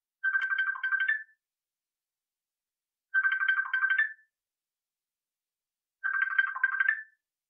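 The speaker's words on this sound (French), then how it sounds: "Oui, il y a quelqu'un qui appelle là." A phone rings with an incoming call, three identical warbling ring bursts of about a second each separated by silent gaps, clear and close with nothing else audible.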